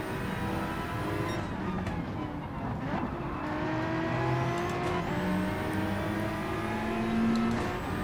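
Race cars roar through a Gran Turismo 7 race in virtual reality, a steady engine drone with shifting pitch as the field of sixteen cars runs close together, loud and continuous with no talk.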